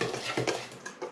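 Spoon scraping and clinking in a bowl as ground nutmeg and cinnamon are stirred into sweet potato pie filling, a run of short close scrapes and taps.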